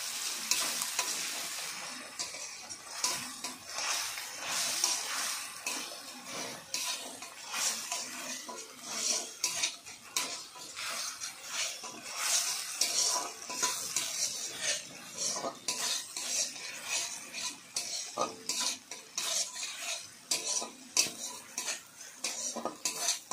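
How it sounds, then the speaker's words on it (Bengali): A turmeric spice mix with a little sugar and water is stirred and fried in a pan, metal utensils scraping and clinking steadily over a soft sizzle, close and fairly quiet, with no talking. "ভালোভাবে কষিয়ে নেব।"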